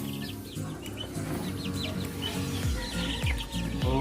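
Young chicks and grown chickens in a brooder fill the space with steady overlapping peeps and clucks, close and busy throughout, with a few louder calls near the end.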